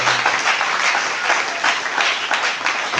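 A church congregation bursts into loud, sustained applause, dense clapping filling the whole stretch without a break.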